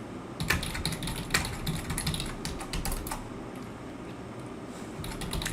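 Fingers type an email on a computer keyboard in quick irregular bursts of clicks, close but soft, trailing off into a quieter stretch before a few more taps.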